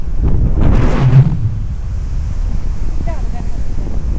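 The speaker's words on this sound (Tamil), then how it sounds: "காற்று வீசுறதுக்கு இந்த பயிர் போகிறதுக்கு ரொம்ப அழகாக இருக்குது." Wind gusts across a paddy field, buffeting the microphone with a loud low rumble that peaks early, then settles into a steady breezy roar, with faint voices and a few distant chirps.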